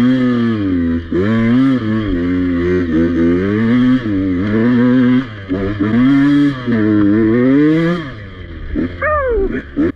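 A Beta 125 two-stroke motorcycle engine revs repeatedly at close range, rising and falling in loud, buzzing pitch sweeps with brief dips between throttle blips.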